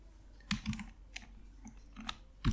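Computer keyboard typing while writing Laravel Blade code, a few separate key presses and short bursts, fairly close and moderately loud, with no talking.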